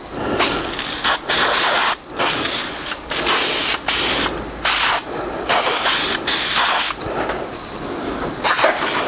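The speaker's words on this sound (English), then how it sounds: "when we go ahead and spray these, there's going to be a little bit of difference" Spray coating being applied to rusty metal home decor letters, including a 16 gauge piece: a loud, steady hiss that comes in long bursts, broken by short pauses where the nozzle is released.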